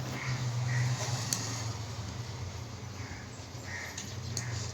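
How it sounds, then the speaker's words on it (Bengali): A crow caws outdoors, a couple of harsh calls rising faintly above a steady indoor hum and background noise, distant and fairly quiet. "আবার বাইরে কাকও ডাকতেছে।"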